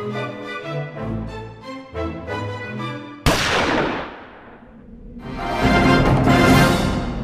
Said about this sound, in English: Acharya J.C. Bose triggered the firing of the pistol in the adjacent room without the aid of any mechanical or electrical contact.